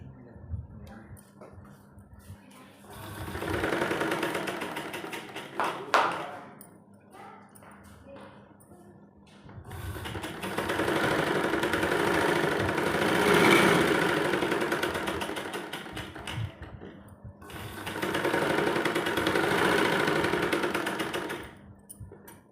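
A sewing machine stitches seams along both sides of a size 38 kurti, running in bursts of steady whirring: a short run, then two long sustained runs separated by brief pauses, close and fairly loud.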